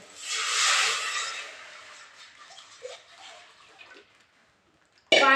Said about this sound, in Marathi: पाणी टाकायचं